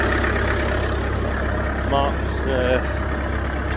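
A tractor engine idles with a steady low rumble throughout, close and continuous, while people talk over it.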